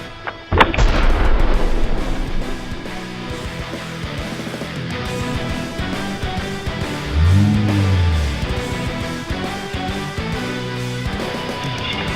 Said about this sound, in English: It looks like it didn't explode until it actually went through the box.